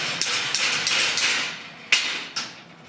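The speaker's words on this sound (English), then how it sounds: "In the vise, give it a tap with a hammer." Sharp metallic hammer taps on a steel piece held in a vise ring out about six times at an uneven pace, each strike bright and close with a short ringing decay.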